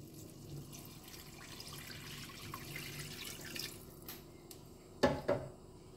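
Water is poured into a cooking pot of sautéed masala for tomato rice, a soft, steady, close pour that runs for several seconds, followed by two sharp metallic clanks of the pot near the end.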